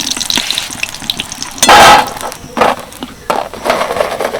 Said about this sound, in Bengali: বেশ ভালো করে ভেজে নিয়েছি এবার আমি তুলে নেবো সবগুলো